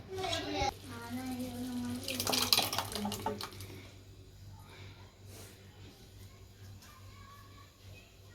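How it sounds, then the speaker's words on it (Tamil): Water is poured into a pan of chicken curry made with tamarind and masala, splashing briefly against the metal amid clinks of kitchenware while a person talks. "கொஞ்சம் தண்ணி சேர்த்து"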